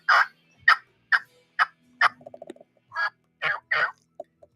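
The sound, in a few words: turkey call imitating a turkey gobble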